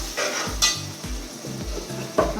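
Pav bhaji masala being stirred and mixed in a pan: repeated rhythmic scraping strokes of a spatula against metal over a low background sizzle, close and moderately loud, with no talking.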